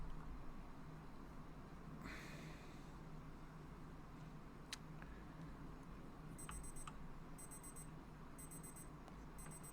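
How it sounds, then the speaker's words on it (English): An alarm-style beeping timer goes off in the Amiga version of Sid Meier's Civilization, with short bursts of high beeps repeating in quick clusters over a steady background hum. "And there is my timer"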